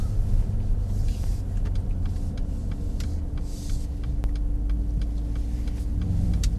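A Mercedes-AMG SL63 drives on a race track, heard from inside as a steady low road rumble with engine drone, light ticks and faint clicks throughout.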